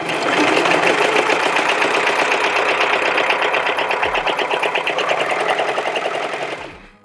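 A Brother 1034D serger, freshly threaded, runs at speed with a loud, rapid, even mechanical chatter that lasts several seconds before winding down to a stop. It is close up and alone, with no voices.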